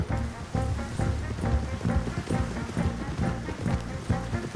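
Horse hooves galloping in rain in the video game Red Dead Redemption 2, a fast, even clip-clop rhythm over a steady patter of rain and background music, fairly quiet.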